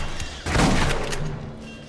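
Pump shotgun blasts in the Aliens: Colonial Marines shooter, a burst of sharp shots followed by one louder, fuller close blast with a decaying tail.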